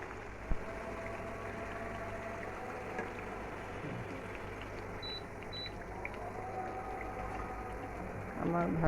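Steady sizzling of potato and flour pieces deep-frying in soybean oil at home, an even bubbling crackle throughout, with two short electronic beeps midway and a clatter at the end.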